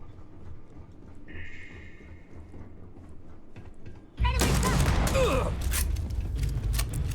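Double-barreled shotgun blasts in Starfield, a sudden loud burst of shots and impacts after a quiet ambient stretch, continuing as dense, noisy combat sound.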